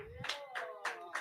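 A small comedy-club audience gives a few rhythmic, fairly quiet claps for a comedian taking the stage at an open mic, mixed with voices.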